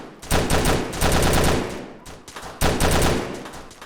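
Loud, close automatic gunfire in the video game Stick Em Up, two sustained rapid bursts separated by a brief pause, each a dense rattling stream of shots.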